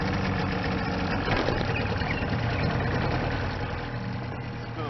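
A small, simple old two-stroke outboard motor on a 45-year-old 18 ft boat idles steadily up close, a buzzy, uneven putter that holds loud and then eases slightly near the end.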